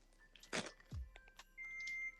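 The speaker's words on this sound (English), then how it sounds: "my microwave is beeping again to tell me to get my stuff" A thin, steady electronic beep tone holds for a stretch, with a few softer beeps and kitchen clatter around it, no talking.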